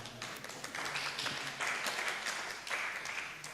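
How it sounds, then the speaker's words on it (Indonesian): Audience applause at a Madurese cultural talk, a scattered, moderately loud burst of clapping that swells and continues briefly, somewhat distant. "Ya, tepuk tangan."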